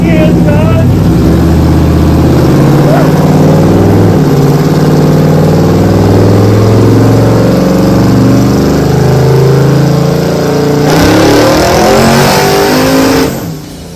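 A 1941 Chevy with a twin turbo engine roars loud and close on a dyno on race fuel, sustained high-revving drone for most of the run before easing off near the end, with voices shouting over it.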